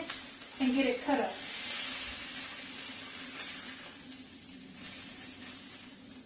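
Steady sizzling of a steak frying in a pan with garlic, with a brief clatter near the start followed by a continuous hiss that slowly fades.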